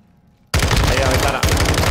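Rapid automatic gunfire from Call of Duty DMZ bursts in after a short quiet moment, loud and close, with a brief break before the rattle resumes.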